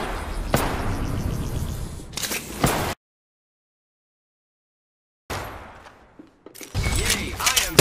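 Gunfire rattles in the battle royale shooter Apex Legends, sharp shots and bursts in two stretches broken by a sudden stretch of complete silence.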